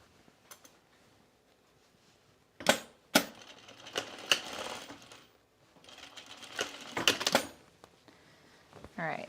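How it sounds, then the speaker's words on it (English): A sewing machine stitching dress fabric in short irregular bursts, loud and clattering, separated by quiet pauses, with some handling noise between runs. "And I'll sew this together here."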